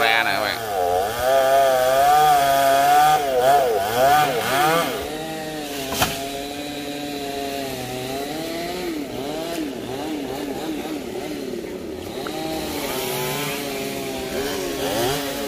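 A chainsaw cuts into a golden oak tree beside a fence, its engine revving and bogging continuously as it loads up in the wood, close and loud throughout.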